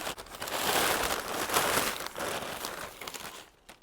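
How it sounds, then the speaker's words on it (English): Wrapped items are unwrapped close by, with paper crinkling and crumpling in busy bursts that fade toward the end. "Hold on, I gotta unwrap the other 3."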